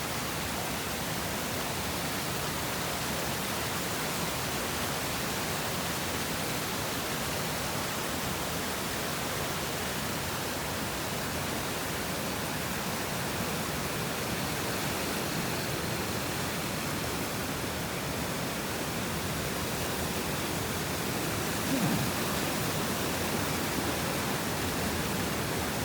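Water cascading like a waterfall down a Japanese satoyama hillside after Typhoon No. 19, near a collapsed, mud-filled spring area: a broad, constant rushing roar fills the whole stretch, steady and close.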